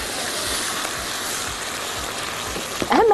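Broth poured over okra in a cooking pot while making okra wika: a continuous, fairly loud splashing stream of liquid, ending with a brief clatter.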